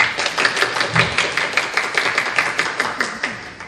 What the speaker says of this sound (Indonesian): Tepuk tangan untuk mereka. Maksudnya, tepuk tangan begini.